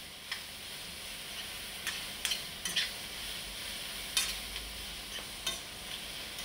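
Garlic, onions and courgette sizzle steadily in a frying pan, with a utensil scraping and tapping through it in repeated short strokes, close up and without talking.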